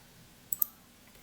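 Two quick, faint clicks of computer keyboard keys pressed together as a shortcut, sharp and close, alone against quiet background.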